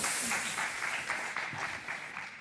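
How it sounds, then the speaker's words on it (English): A conference audience at a tech event's stage applauds in a steady, dense wash of clapping, moderately distant and sustained without a break. "Round of applause, please, for Elias."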